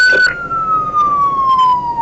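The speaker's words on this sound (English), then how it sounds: "I turn off the siren as soon as I get there" A Seattle police car siren wails loud and near in a single long falling tone, steady over the whole stretch with engine and road noise beneath.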